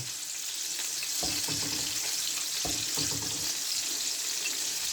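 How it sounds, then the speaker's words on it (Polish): Steady crackling sizzle of fat rendering from duck skin in a pan, close and continuous, with a couple of brief clattering stirs partway through. "Już pięknie słychać jak się tłuszczyk wytapia."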